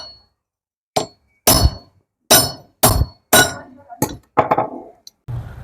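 Sharp metallic hammer strikes ring out on an angle grinder's gear as it is knocked loose, about eight separate clanking blows at an uneven pace, close and loud with quiet gaps between them.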